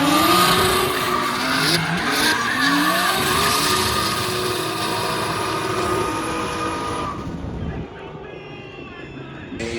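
A Toyota Supra with a 1.5 JC engine drifts at a Johannesburg drifting event at night. Loud engine revs rise and fall in pitch over squealing tires, then the sound thins and fades near the end.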